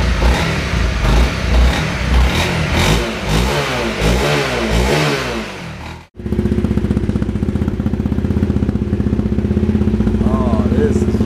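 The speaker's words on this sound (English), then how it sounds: "Hear that exhaust." A 2015 Honda CRF250L motorcycle with a modified exhaust revs and rumbles loudly with rising and falling pitch, then cuts abruptly into a steady, throbbing idle of exhaust.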